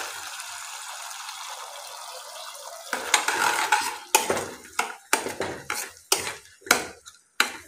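Cornflour slurry goes into a pan of cabbage manchurian, first a quiet pour and faint hiss, then a series of sharp metal spoon scrapes and clinks against the pan as it is stirred, close and distinct.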